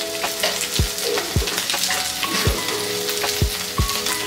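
Spiced potatoes roast and sizzle in a pan, a steady crackling fry broken by several sharp knocks of a spoon stirring against the metal, close and fairly loud with no voices.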